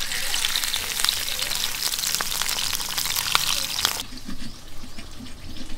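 Fish frying in a pan in a home kitchen, a loud, dense crackling sizzle with sharp pops that continues throughout, dropping to a lower, duller hiss near the end.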